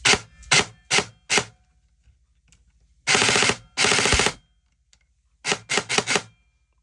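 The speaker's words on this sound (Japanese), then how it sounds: "発射します。" A Kestrel-equipped airsoft gun running on a 7.4V two-cell battery fires in short, sharp mechanical bursts, several quick single shots, then two longer buzzing strings, then another rapid cluster, close by with quiet gaps between.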